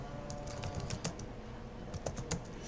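Close, quiet keystrokes on a computer keyboard as a Twitter handle is entered, a short irregular run of soft taps over about three seconds with a few louder key presses.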